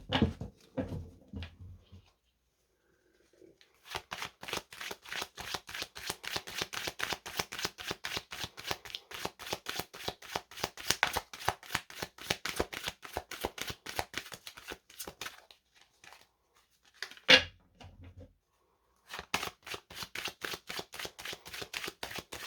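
Tarot or oracle cards being shuffled up close, a long run of rapid, crisp riffling flicks with short pauses between bursts and no talk.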